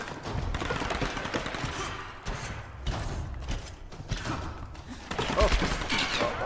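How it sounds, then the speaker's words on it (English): Enemy gunfire in the Tomb Raider video game, a dense run of shots and thuds with rumbling game noise, continuous for several seconds and heaviest near the end. "there's a guy shooting me"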